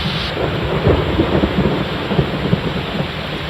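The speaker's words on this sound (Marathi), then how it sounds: "नवी मुंबई शहरात सकाळपासूनच पावसाला सुरुवात झाली आहे" Heavy monsoon rain pours steadily over Navi Mumbai, a dense, constant roar with occasional low rumbles beneath it.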